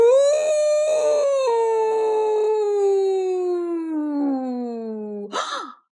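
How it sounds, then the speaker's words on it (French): A single long wolf howl rises to a held note in the mountains, then slowly slides downward in pitch for several seconds before breaking off into a short breathy rasp, loud and close with no talk over it. "Puis, ce fut un hurlement dans la montagne."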